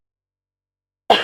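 A single short cough bursts out near the end after a long silence, close and fairly loud, alone with no talk.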